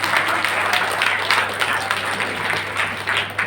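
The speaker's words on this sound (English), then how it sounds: "Give yourself a big round of applause." At an entrepreneurial skills training session, an audience claps in a steady, dense round of applause that carries on for several seconds over a low background hum.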